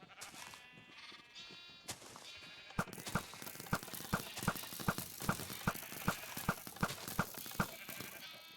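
Many sheep bleating in Minecraft, repeated overlapping bleats over a busy game backdrop, followed by a steady string of sharp rhythmic clicks or thuds about every half second.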